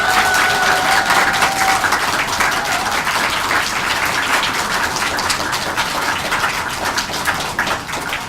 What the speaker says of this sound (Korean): 잘못된 부분의 교육을 바로 잡겠다는 우리 후보자에게 여러분 다시 한번 큰 박수 보내드릴까요?